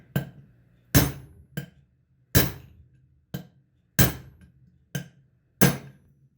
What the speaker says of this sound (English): I'm just going to use an inch size socket and pound it out.